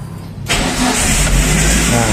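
A 2014 Suzuki Carry 1.5 Futura pickup engine cranks and catches after a brief quiet moment, then settles into a loud, close, steady idle.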